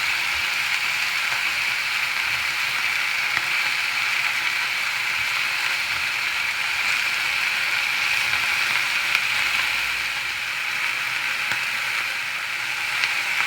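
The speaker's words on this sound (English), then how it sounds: "all we're looking to do is get some colour on this beef and we'll take it straight out" Thinly sliced beef searing in a hot pan, a loud, constant bright sizzle that holds steady throughout with faint occasional scrapes and ticks.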